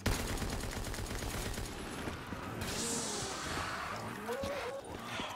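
The White Feller gun in Call of Duty Black Ops 3 zombies fires a fast, rapid stream of close, loud shots that run for a couple of seconds, then give way to rumbling game noise and scattered hits.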